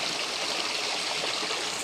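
Clean mountain stream water pouring at a waterfall, a steady dense rushing hiss close by with no break and no voices.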